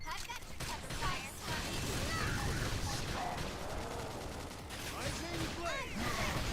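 Rapid gunfire in the Xenoblade Chronicles X battle, laid down as cover fire: a faint, continuous rattle of shots mixed with clashing combat effects running through the whole stretch.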